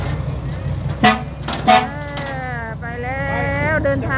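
Two short, sharp horn toots sound close together, followed by people talking over a low vehicle engine hum.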